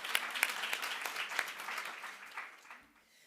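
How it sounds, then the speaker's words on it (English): Audience applause for a speaker and her live translator at a journalism talk, a steady wash of clapping with a few sharper claps early on that fades away over a few seconds. "Yes, please give them a round of applause."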